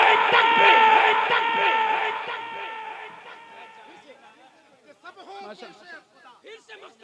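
A large crowd roars back in unison to a takbir slogan at a Naat gathering, loud and sustained for a few seconds, then fading into scattered, choppy voices and murmurs.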